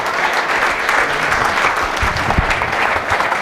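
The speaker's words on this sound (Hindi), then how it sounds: "एक बार जोरदार तालियों के साथ समर्थन होना चाहिए।" Loud, sustained applause from a crowd of college students at an entrepreneur's talk, a thick continuous roar of clapping close up, holding steady throughout without any speech.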